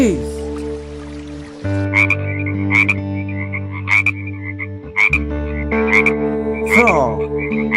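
A frog croaks in a steady, repeated rhythm of short, pulsed calls. Other animal voices and a soft background bed sit beneath the croaks.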